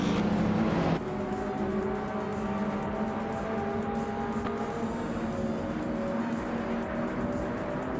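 Racing cars in a video game race drone with sustained engine notes that shift pitch as they accelerate and pass, a sharp change near the first second, steady and loud with no voices.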